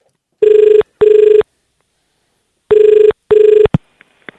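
Recorded telephone call with two double rings of a phone bell, each pair of loud buzzing bursts separated by a pause, followed by clicks as the line connects.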